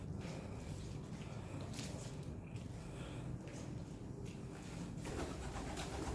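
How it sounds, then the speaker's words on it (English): Pigeons cooing inside an abandoned mill, soft repeated coos that sound faint and somewhat distant, with scuffing footsteps and no voices. "Ah, pigeons."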